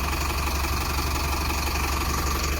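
A parked tipper truck engine idles with a steady, unbroken low rumble and a faint mechanical vibration, close by and alone, with no talk.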